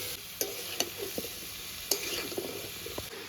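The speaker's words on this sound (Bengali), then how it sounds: "এবার হচ্ছে সবগুলো সবজি একটু ভালো করে একটু মিশিয়ে নেব যাতে হলুদ লবণটা পুরো সবজির গায়ে লাগে" Mixed vegetables with turmeric and salt are stirred in a pan, with a low sizzle underneath and a few sharp spoon taps and scrapes against the metal. No one speaks.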